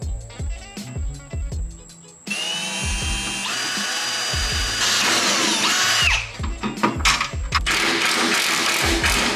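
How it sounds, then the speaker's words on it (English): A power drill bores a small hole in a coolant reservoir mounting tab on an S54-swapped BMW E30, running in short bursts of whine with pauses between them and then a longer steady run, close and clear. "I'm gonna drill a small little hole there"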